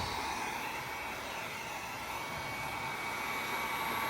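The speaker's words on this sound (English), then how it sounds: "so we got our heat gun here" A heat gun blows steadily while warming a car headlight assembly to soften its lens glue for a custom build on an Audi wagon, a constant close broadband whoosh with no talking.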